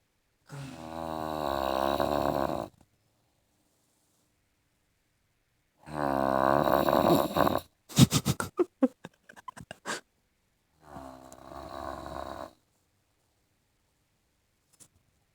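Loud snoring from a person, heard as three long rasping breaths separated by silences, with a burst of sharp snorting and sputtering noises in the middle.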